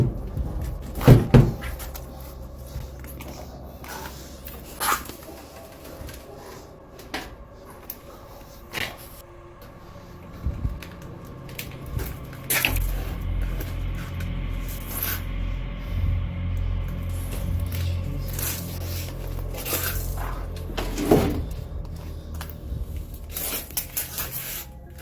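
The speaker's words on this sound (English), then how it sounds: "Something we cannot see began aggressively slamming the mannequin into the door" A mannequin is slammed against a door, giving a few sharp, hollow thuds spaced far apart, with rubbing and rattling noises in between.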